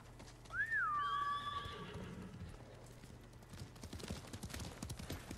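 A horse in the Ghost of Tsushima video game gives a clear, high whinny, followed by a run of clip-clopping hooves that grows more rhythmic toward the end.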